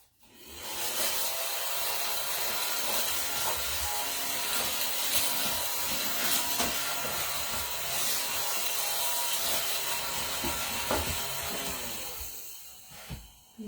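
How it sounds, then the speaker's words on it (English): A vacuum cleaner runs steadily over a wooden cutting board to remove dust, a loud continuous whooshing with rubbing and scraping noises that starts abruptly and cuts off near the end. "Use my vacuum a little bit."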